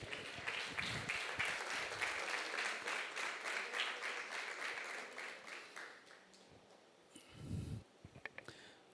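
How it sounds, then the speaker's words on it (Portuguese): A Sunday church congregation applauds during a service, a full round of clapping that holds steady, then thins and fades away. A few scattered claps and a brief noise follow near the end. "Dá uma salva de palmas para Jesus."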